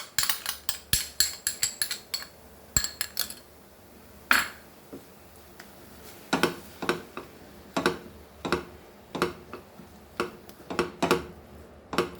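A knife chopping a tomato on a board, a quick run of sharp clicking taps in bursts with short pauses, close and clear with no talking.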